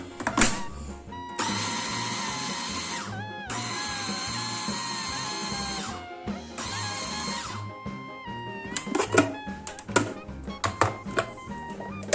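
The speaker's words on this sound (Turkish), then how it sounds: "Domateslerimi rondodan geçirdim." A food processor chopping tomatoes whirs loudly in several bursts with brief pauses, then blade clatter and knocking as the motor winds down.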